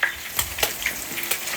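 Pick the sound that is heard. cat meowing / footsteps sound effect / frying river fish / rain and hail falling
frying river fish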